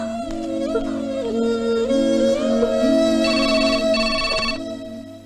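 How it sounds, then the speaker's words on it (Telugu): A loud electronic phone ringtone plays continuously, a repeating melodic tone pattern with brief higher chirps, close and clear with no talking. "నేను ఫోన్ ట్రై చేసి వస్తా బయట"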